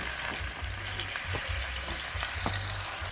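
Pork belly (liempo) seasoned with salt and pepper frying in a Tefal pan, a steady close sizzle with bright crackle running throughout, punctuated by occasional soft scrapes and pops.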